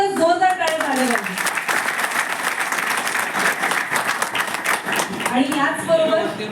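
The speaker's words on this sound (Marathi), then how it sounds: "परत एकदा जोरदार टाळ्या झाल्या पाहिजे" An audience at a Mission IAS event in Washim breaks into loud, sustained applause lasting several seconds, with a voice speaking over it at the start and end.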